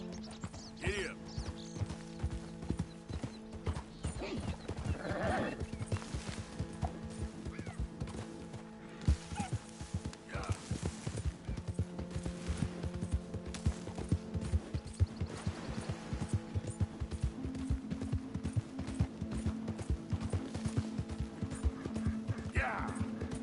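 Hooves of a ridden horse clip-clop in a steady walking rhythm throughout, with mechanical rattling and occasional snorting, while someone speaks over it.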